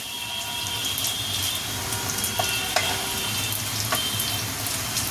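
Pieces of chhana (paneer) for a Bengali chhana kalia fry in oil with a steady, close crackling sizzle and occasional sharper pops throughout. No one speaks.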